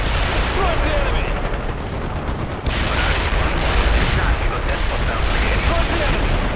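Mortar fire in the World in Conflict battle game rumbles as a dense, continuous barrage of booms and blasts, loud and sustained with one brief dip partway through.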